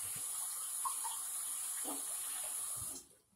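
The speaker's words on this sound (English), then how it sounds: "Rinse out the rag." Running water from a tap rinses out a cleaning rag at a sink, a steady close splashing flow that carries on for about three seconds and then cuts off.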